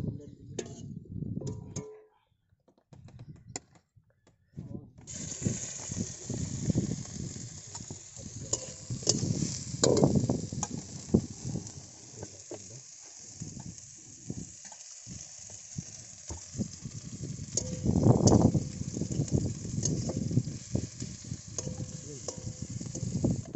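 Onions sizzle and fry steadily in a pan for a Bengali chicken curry, with a constant hiss and some stirring scrapes, while a person speaks intermittently over the cooking.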